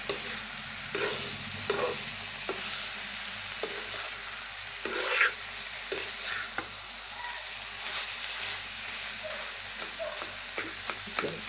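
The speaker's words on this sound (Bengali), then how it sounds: "এটা বেশ আমি কষে নেব ভালো করে। সব ডিমটা এর সাথে মিশে গেছে।" Egg and papaya mixture being stir-fried in a pan: a continuous close sizzle with frequent scraping and tapping of the spatula in an irregular rhythm throughout.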